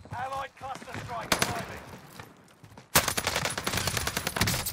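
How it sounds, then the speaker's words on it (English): Rapid SMG bursts ring out in a Rebirth Island battle-royale match, sharp dense automatic fire that starts in short spurts and then becomes a long loud sustained stream, with a player's voice talking briefly at the start. "Bro, this SMG is so much fun to use."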